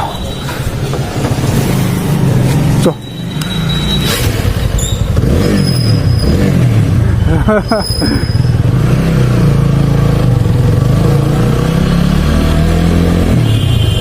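A motorbike engine catches and revs on a village road on a Christmas morning, a loud, steady mid-range engine drone throughout with rising and falling throttle bursts and faint voices in the background.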